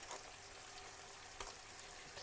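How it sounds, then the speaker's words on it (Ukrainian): Chicken meat sizzles and crackles in a hot pan after being turned to its second side, a faint, continuous frying hiss with small pops. "роблю вогонь більше і піджарюємо другу сторону"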